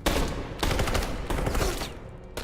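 Dense, loud bursts of automatic gunfire in the video game Detroit: Become Human, three sustained volleys separated by brief gaps, with no talk.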